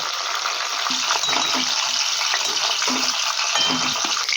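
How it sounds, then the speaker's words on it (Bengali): Pointed gourd pieces fry in hot oil in a pan, a loud continuous close sizzle with intermittent stirring and scraping, no talking. "এইভাবেই আমি বাকি পটলগুলোকেও ভেজে তুলে নেব"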